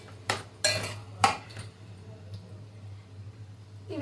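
Chopped tomato pieces stirred with a utensil in a cooking pan, giving three brief scraping clinks early on, then a quiet stretch over a steady low hum.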